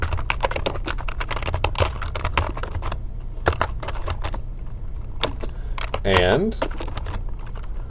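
Rapid typing on a computer keyboard while entering a search term into a database search box, steady clustered keystrokes with brief pauses, and a short spoken word partway through.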